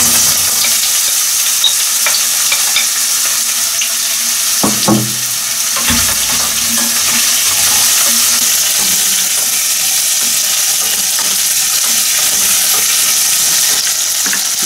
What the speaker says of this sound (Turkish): Önce 2-3 dakika havuç ve patatesi güzelce bir kavuracağım yağda.